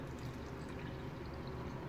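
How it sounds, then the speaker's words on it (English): Water is poured steadily from a measuring cup into a pot of vegetable biryani, a continuous close gurgling pour with no break. "I'm going to add only 1 1/4 of cup of water."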